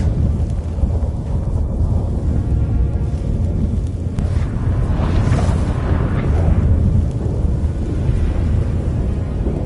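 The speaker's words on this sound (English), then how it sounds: "That a storm?" Storm thunder rolling in the video game The Witcher 3, a loud, continuous low rumble with gusty wind-like noise that swells and churns throughout, no voices.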